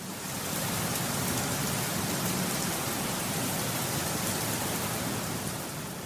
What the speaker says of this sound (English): it would transmit the sound into more of a rainstorm or a really rainy